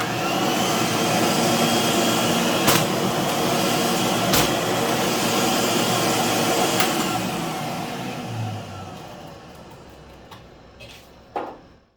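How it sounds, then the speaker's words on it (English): An old vacuum cleaner runs with suction, giving a loud, steady whine with a few sharp clicks, then winds down and fades near the end. "I was hoping to use the suction of the vacuum to hold the paper in place while I did this"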